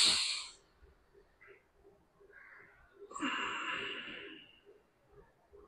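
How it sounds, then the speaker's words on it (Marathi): A sharp, quick nasal inhalation opens a pranayama breathing exercise for asthma, followed after a pause by a long, slow, hissing exhale, close and breathy with no talking. "आता झटक्याने घ्यायचा आणि संथ गतीने सोडायचा."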